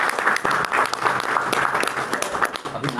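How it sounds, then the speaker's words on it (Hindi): Crowd applause at a yoga and political party gathering, a dense, loud patter of many hands clapping continuously throughout, near and unbroken. "एक बार ताली बजा भाई"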